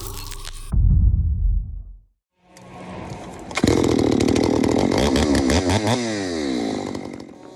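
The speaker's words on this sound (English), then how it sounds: "The logger expertly wielded her chainsaw, its high-powered engine roaring as she made precise cuts into the massive trunk." Big chainsaw cutting into a massive tree trunk: a loud engine rev fades to a brief silence, then the saw restarts and roars steadily and closely while biting through the wood.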